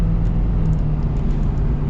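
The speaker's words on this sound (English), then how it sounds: "And the engine's really smooth" Diesel engine of a 2025 Ford F-350 King Ranch Tremor pickup running, a steady, smooth low rumble heard close up and unbroken, with no talk over it.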